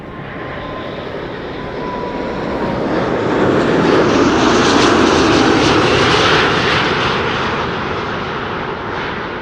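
An Airbus A340-600 airliner landing gives a loud, broad jet roar that swells to a peak midway and then slowly fades, steady and continuous, with no talking.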